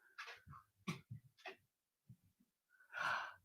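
A pet puppy sniffs and snorts nearby in short, breathy bursts with gaps between them, ending in a longer, louder huff.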